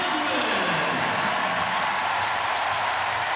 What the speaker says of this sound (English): We're going to take a listen to this crowd real quick.